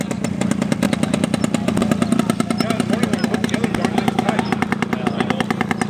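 Loud, steady buzzing drone of a 75cc gas ignition engine on a large scratch-built RC scale airplane at a scale flying competition, running continuously nearby while people talk.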